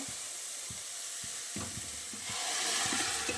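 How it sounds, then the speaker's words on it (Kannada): Dried shrimp frying in oil in a pan, a steady hissing sizzle with occasional soft stirring knocks, growing a little louder toward the end. "ಇದೊಂದು ಎರಡರಿಂದ ಮೂರು ನಿಮಿಷ ಫ್ರೈ ಮಾಡ್ಕೋಬೇಕು"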